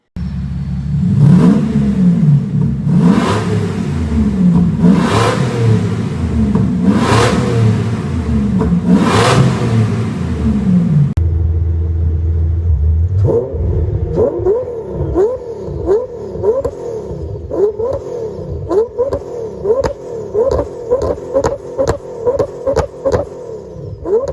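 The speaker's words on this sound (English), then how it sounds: "Imagine a Supra with a twin-turbo V12." A Toyota Supra fitted with a twin-turbo V12 revs loudly in repeated rising and falling bursts, then settles into a choppier running note with sharp pops and crackles, with no talking.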